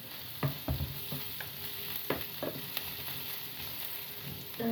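Onions frying in a pan with a pinch of turmeric, a soft steady sizzle broken by several sharp scrapes and clinks of a spatula stirring, fairly quiet and close.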